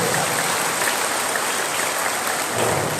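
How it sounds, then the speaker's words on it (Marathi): Dense, steady clapping from a crowd at a BJP and Mahayuti workers' Diwali gathering in a wedding hall, welcoming the leader Jaybhau Gore; a continuous wash of applause holding level for about three seconds. "सगळ्यांनी हात वर करून टाळ्या वाजवून भाऊंचं या ठिकाणी स्वागत आहे"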